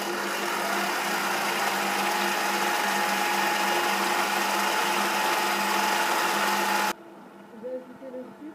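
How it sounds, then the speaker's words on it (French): A stand mixer beats butter and sugar for raspberry cupcakes, a steady loud motor whir holding for about seven seconds before cutting off abruptly, with faint rustling and handling noise after. "J'ai mis le beurre dans mon robot et je vais commencer à travailler le beurre"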